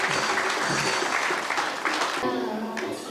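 A crowd claps at a Good Friday gathering after a winner of a spoon race is announced, the dense applause fading somewhat toward the end.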